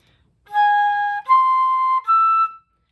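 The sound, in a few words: flute playing two half notes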